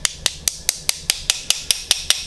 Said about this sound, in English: May need to hit this with a hammer.